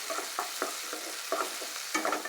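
Tomatoes cooking in a frying pan for a noodle dish, with a steady sizzle broken by repeated scraping stirs close up, no voices.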